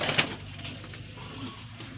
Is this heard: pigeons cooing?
yes